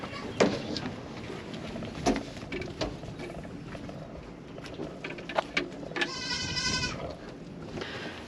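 Goats in an ice storm, with baby goats in a heated pen, bleating in short intermittent calls over a faint background, with a brief mechanical buzzing near the end.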